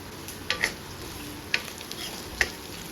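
Dried red chillies and sliced coconut sautéing in a pan: a steady low sizzle with three distinct spatula scrapes or taps spaced about a second apart, close and clear, no voices.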